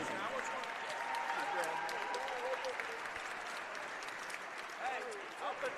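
A crowd at a college basketball game applauds graduating seniors with steady, dense clapping that fills the arena, while voices carry faintly over it.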